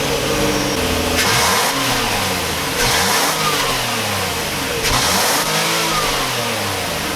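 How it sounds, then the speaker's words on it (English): Nissan Murano with dual exhaust, revved repeatedly from idle: three loud rising and falling engine sweeps over a steady mid-pitched rumble, recorded close to the tailpipes with no talking. "And now we'll have a listen to the exhaust."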